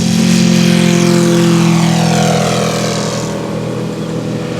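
A radio-controlled model airplane taking off, a loud steady propeller engine drone close by that gradually fades as it climbs away, with no voices.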